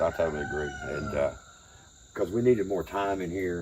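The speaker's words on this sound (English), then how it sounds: "You can hear the rooster over here crowing right now." A rooster crows at night near an abandoned building, a drawn-out call standing clear between stretches of close conversation, with a steady insect chirr running underneath throughout.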